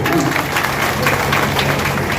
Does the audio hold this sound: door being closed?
no